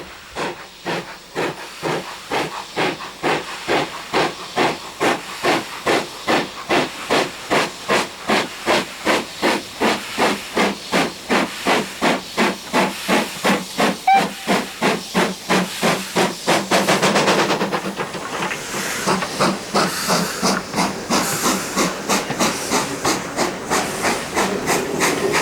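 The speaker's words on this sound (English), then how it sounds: "the engine fighting it is BR Standard Light Mogul 78022" BR Standard Light Mogul steam locomotive 78022 labours uphill on the Keighley and Worth Valley Railway in damp weather, with loud, rhythmic exhaust chuffs repeating steadily throughout, accompanied by hissing steam.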